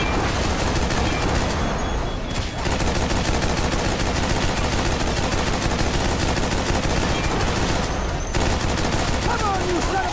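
Dense, continuous cannon gunfire in The Walking Dead: Survival Instinct at Firesign Stadium, loud and unbroken with two brief dips, mixed with chaotic battle noise.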